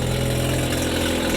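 A rare factory-manual JDM car rated at 450 bhp idles close by, a loud, steady, rumbling engine note with a low, even pulse and no voices over it.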